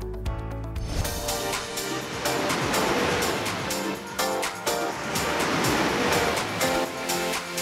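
Surf waves break repeatedly at Yangyang surf beach in Korea, a loud rolling wash with recurring crashes and spray, continuous throughout with no voices.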